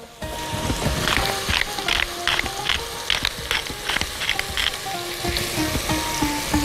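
Onion frying in vegetable oil with salt and pepper, stirred in the pan: a continuous hiss and sizzle broken by repeated scraping and clinking strokes of the spoon, close up with no talk.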